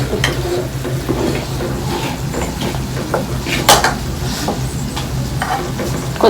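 Spiced potato mixture being stirred in a pan for a breakfast and lunch box dish, with steady sizzling and repeated scrapes and clinks of a utensil against the metal, close and continuous, no talking.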